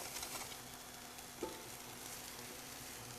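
Food sautés quietly in a thin coat of olive oil over raised heat for ground beef stroganoff, a faint continuous sizzle with a brief stirring scrape partway through.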